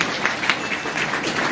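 Seminar audience clapping on cue in a large hall, a steady, fairly soft wash of many hands across the whole short stretch, with no talk over it.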